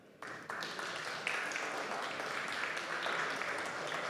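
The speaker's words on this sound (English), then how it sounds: "round of applause for Kavan" A conference audience at a panel event applauds a guest stepping onto the stage, faint clapping that begins abruptly and builds to an even, continuous patter heard from a distance.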